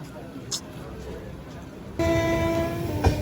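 New Delhi–Bhubaneswar Duronto Express entering a station near Anand Vihar Terminus, a low rumble that jumps up suddenly into a loud, sustained tonal hum and roar of the passing train, with a brief horn-like burst early on.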